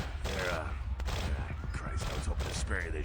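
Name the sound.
gunfire from the video game Vampire: The Masquerade – Bloodlines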